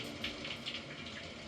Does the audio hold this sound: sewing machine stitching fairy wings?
no